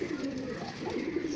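Pigeons coo in a loft, a soft, low, rolling warble that repeats continuously and close by, with faint background noise beneath.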